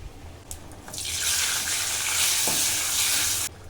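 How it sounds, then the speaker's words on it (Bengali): Cumin, dried red chillies and bay leaf sizzle loudly after being dropped into hot mustard oil in a kadai for a Bengali mango dal tempering, with a steady hiss building after a few light clinks and cutting off sharply. "কড়াইয়ে দিয়ে দিচ্ছি সর্ষের তেল ডালে ফোড়ন দিচ্ছি জিরে শুকনো লঙ্কা তেজপাতা"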